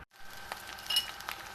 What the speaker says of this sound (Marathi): ह्यात मी टाकते जिरं थोडीशी हळदी थोडंसं लाल तिखट आणि मस्त आपली फोडणी देते